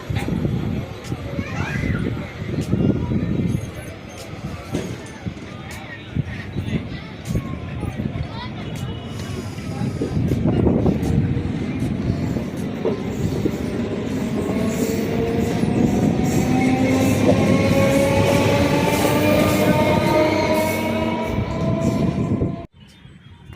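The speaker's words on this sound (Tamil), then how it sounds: "இங்கேருந்து இந்த ட்ரெயின் புறப்பட்டு இது விழுப்புரத்துக்கு போகுது பாருங்கள்." A multiple unit train rumbles and pulls away from a station, its motor whine rising in pitch as it speeds up, while someone talks over the rolling noise.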